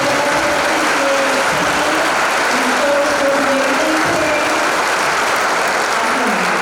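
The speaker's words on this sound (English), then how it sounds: "Let's give another round of applause for all of our" Loud, sustained audience applause at an elementary school Grandparents Day event, a thick continuous roar of clapping with faint tonal murmurs underneath.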